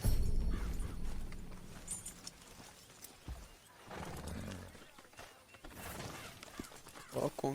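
Horse in Red Dead Redemption 2 being tied up, with snorts and hoof movement under game ambience and someone talking over it.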